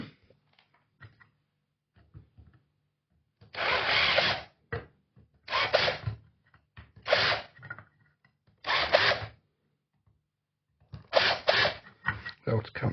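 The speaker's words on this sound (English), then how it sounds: "Be able to countersink these a little bit as well, I think." A power drill countersinks freshly drilled holes during a network switch repair, whining in about six short bursts of one to two seconds each, separated by quiet gaps with faint handling noises and brief talk.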